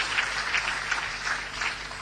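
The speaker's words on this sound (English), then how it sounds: "by the mere mention of his name, I raised an applause" Audience applause at a college event, a dense steady patter of many hands clapping together, moderately loud and continuous with no talking.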